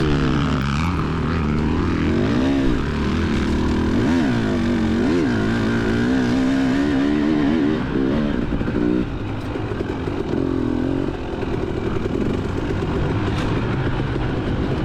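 Motocross dirt bikes race on a muddy cross-country track at an MSXC round, with a close, continuous engine drone whose revs rise and fall steadily throughout.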